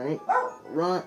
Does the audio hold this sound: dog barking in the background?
yes